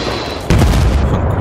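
A single loud grenade boom in the video game Battlefield: Bad Company 2 bursts out suddenly, then rumbles and fades over the following second.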